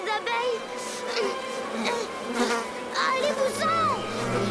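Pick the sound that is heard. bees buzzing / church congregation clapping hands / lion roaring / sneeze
bees buzzing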